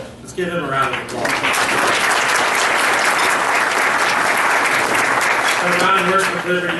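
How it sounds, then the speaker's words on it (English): A business development meeting audience gives a sustained round of applause, steady and loud throughout, with a voice briefly heard at the start and end. "Let's give him a round of applause."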